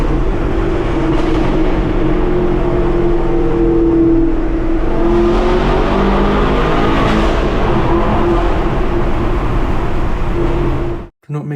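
Chevrolet Camaro SS 1LE with the track package, engine holding a loud, steady drone that rises and swells in pitch over several seconds, with a mechanical rumble underneath, before cutting off abruptly at the end.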